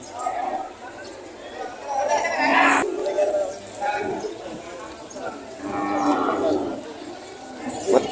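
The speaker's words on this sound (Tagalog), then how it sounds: "Mataba na kayong kalabaw." Deep, drawn-out mooing from a water buffalo, several calls in succession, amid outdoor crowd chatter and talking at a livestock market in Padre Garcia, Batangas.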